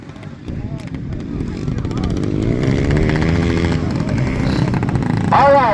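85cc motorcycles racing on a dirt track, engines buzzing and rising in pitch as they pass close by, loud and continuous, with an announcer talking over the noise.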